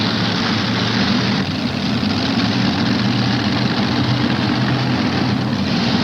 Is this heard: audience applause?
no